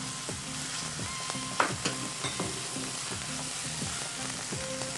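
Ginger garlic paste fries in a pan after browned onion, making a continuous sizzle with regular scraping stirs and a few brief clinks, with no voices.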